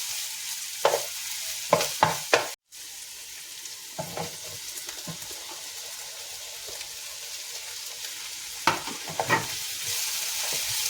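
Tomatoes sautéing in a pan while being stirred, with clusters of scraping utensil strokes near the start and end over a soft, steady sizzle, and no voices.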